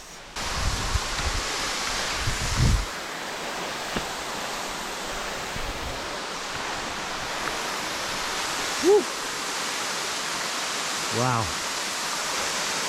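Browns Falls, a waterfall in an Australian park running lower than usual after little rain, gives a steady broadband rush that fills the whole scene, with a few brief excited exclamations from a person over the water.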